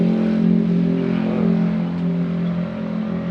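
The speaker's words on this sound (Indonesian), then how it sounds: "pakai mesin pembebat rumput" A motorized brush cutter runs at a garden plot, giving a steady close engine drone with a slight rise and fall in pitch, and no voices.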